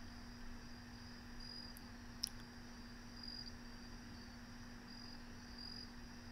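Crickets chirp steadily outside a window at night, a faint, continuous high trill sitting beneath a constant low electrical hum, with one brief click partway through.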